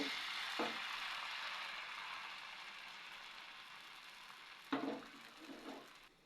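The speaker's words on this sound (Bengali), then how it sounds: "এক চামচ ব্যাটার দিয়ে দিচ্ছি, আর সঙ্গে সঙ্গে এইভাবে ঘুরাই দিব।" Batter for patishapta pitha is spread on a nonstick tawa with a soft, faint sizzle, broken by a couple of sharp scraping clicks from the spoon.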